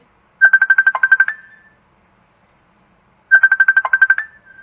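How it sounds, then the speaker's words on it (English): A phone ringtone rings in two identical bursts of rapid pulsing electronic tones, each about a second long and separated by a pause, loud and close with no talk. "Oh, I've got a phone call."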